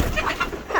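Chickens cluck softly nearby in a few brief, close calls while pecking at rice paddy.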